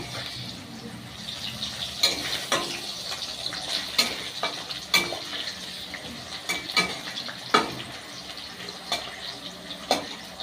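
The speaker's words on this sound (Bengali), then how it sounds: "আলু ভাজা করে নিচ্ছি" Potatoes fry in a pan with a steady sizzling hiss, broken by sharp clinks and scrapes of a utensil stirring every second or so.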